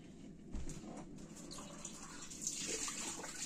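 Water runs and splashes while coffee is made outdoors at sunrise, a faint, uneven trickle and pour with small bursts and a few soft knocks.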